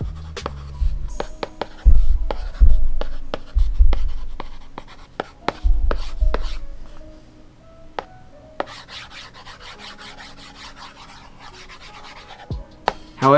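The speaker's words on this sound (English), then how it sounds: "you can immediately feel like you're writing on paper when you're using your Apple Pencil on the screen protector" An Apple Pencil scratches across a matte paper-feel iPad screen protector in a run of quick strokes and taps, close and fairly loud, then lighter scribbling toward the end.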